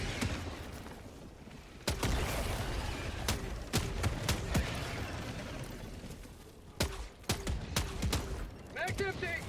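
Gunfire in the video game Helldivers 2 during a solo Super Helldive bug fight: sharp bursts and single shots with mechanical clicks, and a voice talking over the action.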